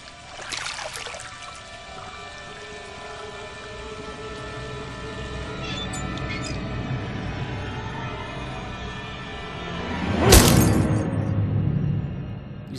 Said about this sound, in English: Smashed a perfectly good mirror.